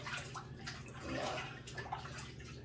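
Water pours steadily into a 75-gallon aquarium tank, a continuous soft splashing and gurgling wash that stays fairly faint and even throughout.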